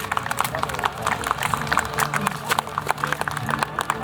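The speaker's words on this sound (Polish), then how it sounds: "Wielkie brawa dla walczących." A crowd applauds the fighters at the close of a bout between Bolesław Sitek and Krystian Orłowski, a dense patter of clapping and footsteps running under a loud voice talking over it.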